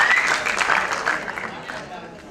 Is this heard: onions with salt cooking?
no